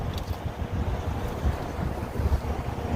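Blustery outdoor wind on a day of changing seasons, a steady rough roar buffeting the microphone with low rumbling gusts throughout, close and fairly loud with no voices.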